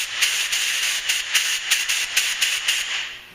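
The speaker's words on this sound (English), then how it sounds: "We'll blow through that emulsion tube, and I'll feel out here to feel if I can feel any air coming through the throat of the carb" Air blown in steady breathy puffs through the emulsion tube of a Toro CCR snowblower carburetor, a close, continuous hiss pulsing in rhythmic bursts with no talking.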